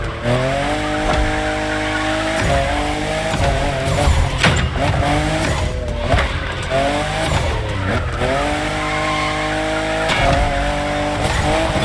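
A fifth-generation Toyota Supra drifts in The Crew Motorfest racing game, its loud engine revving up and down in waves, with repeated bursts of tire squeal and no voices.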